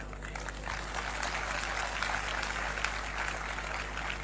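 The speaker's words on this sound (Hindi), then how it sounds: "ताली मत बजाइए" Audience applause at a lecture: continuous dense clapping from a crowd, steady and moderately loud throughout, with a low electrical hum underneath.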